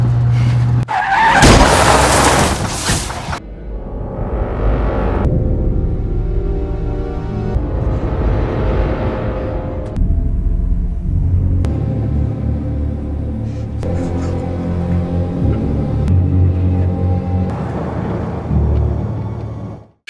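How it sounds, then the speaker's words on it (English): A car skids with screeching tires and violently crashes into another car in a movie scene, followed by loud rumbling vehicle and impact sounds running continuously throughout. "he is seen driving while reaching for a drink, causing him to lose focus and crash violently into another car"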